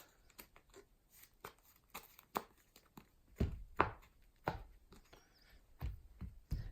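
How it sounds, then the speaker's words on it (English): A deck of trading cards for a Crusadia Guardragon game being quickly shuffled, heard as soft irregular riffles and taps, quiet and close, with no talking. "Just a quick shuffle."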